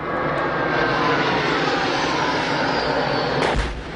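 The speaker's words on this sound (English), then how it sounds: "these pictures clearly show jet planes being used against fighters from the Kachin Independence Army" Military jet aircraft over Kachin State near the Chinese border, a loud continuous broadband engine roar that holds steady, then a sudden burst near the end.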